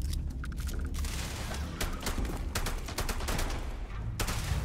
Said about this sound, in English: I can't even tell you how this gun is firing.